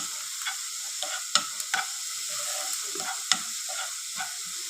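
Crushed carrot stirred and roasted in ghee in a pan for carrot halva, with a steady close sizzle broken by several sharp scraping stirs of the spoon against the pan.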